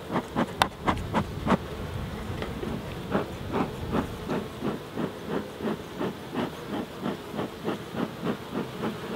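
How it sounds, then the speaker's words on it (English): A steady hum of many honey bees buzzing close by around an opened hive during a UK hive inspection, with a regular rhythmic whooshing pulse repeating throughout and no voices. "Try and get these bees off of here."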